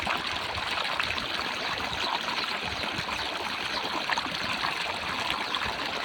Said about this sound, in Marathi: काय स्पीडमध्ये पाणी चाललं एकदम फुल